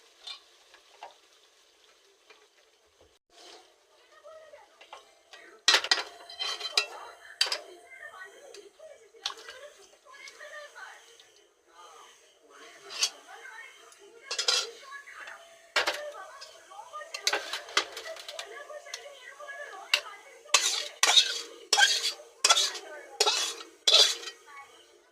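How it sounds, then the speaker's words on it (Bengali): Spoon stirring chicken curry sprinkled with garam masala in a pan, with a roti to follow: repeated scraping and clinking strokes with soft sizzling, clattering in bursts close by, no talk. "দিয়ে আর একবার এইভাবে নাড়িয়ে নিয়ে এবার আমি একটা বাটিতে নামিয়ে নেব"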